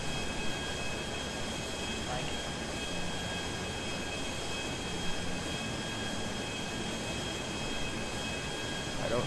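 Jet aircraft in the video game GTA, a steady broadband roar of engine and wind with faint tonal lines running through it, loud and continuous throughout.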